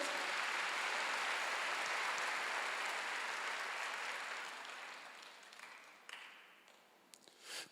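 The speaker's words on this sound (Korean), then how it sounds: "박수." A church congregation at a Wednesday worship service applauds together in a soft, even wash of clapping that fades out after about five seconds, leaving near silence with a few faint taps and a sharp click at the end.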